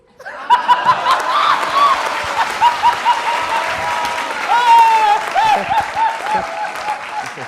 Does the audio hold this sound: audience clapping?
yes